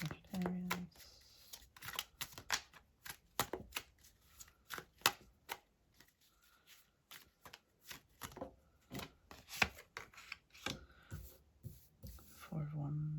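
Tarot cards are shuffled and drawn in a quiet room, giving soft, rapid riffling and papery flicks in irregular bursts, with a voice murmuring briefly at the start and end.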